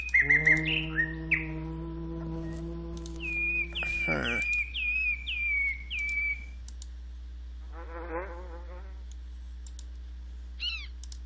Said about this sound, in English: That is the bird.